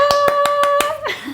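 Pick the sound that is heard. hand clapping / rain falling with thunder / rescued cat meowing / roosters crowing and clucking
hand clapping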